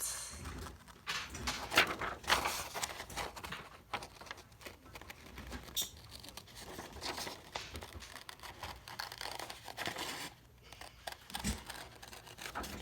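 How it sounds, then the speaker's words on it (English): Scissors cutting through paper along a horizon line and around an oval during a paper craft project, giving a run of close crinkling and snipping rustles that rise and fall over steady room noise, with no talk. "And then I'm going to take my scissors."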